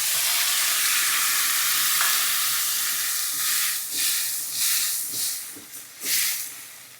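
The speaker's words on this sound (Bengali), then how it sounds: "এখন আমি এর মধ্যে মাছগুলো ঢেলে দিয়ে দিচ্ছি" Mixed river fish is poured into a pan of softened onions, setting off a loud, hissing sizzle that fades as irregular stirring scrapes and splutters take over.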